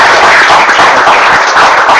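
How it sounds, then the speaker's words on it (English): A lecture audience gives a sustained round of loud, dense clapping after a talk on the politics of football, an even wash of applause filling the room without pause. "a huge round of applause"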